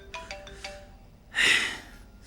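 A phone rings with an incoming call, a short electronic ringtone pattern of a few tonal bursts followed by a louder, brighter burst, close and clear with no talking.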